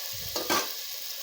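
Coriander and curry leaves sauté in a pan for drumstick sambar, a short close sizzle with a quick stirring scrape in the middle.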